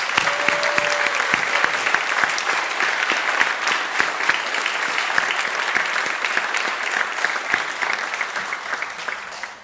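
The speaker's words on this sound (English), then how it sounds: "let's give all of them a big round of applause" A student awards ceremony crowd gives sustained applause, thick continuous clapping from many hands at an even level, tapering slightly near the end.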